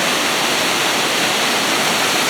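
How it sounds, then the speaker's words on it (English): A waterfall pours in a steady, loud, broadband rush of falling water that fills the whole scene without pause, with no voices over it. "I hope you guys can hear me because of the water"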